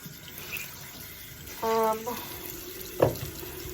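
Tap water runs into a sink while a textured velvet makeup sponge is rinsed under it, a steady close stream with a couple of brief louder splashes as the sponge moves through the flow.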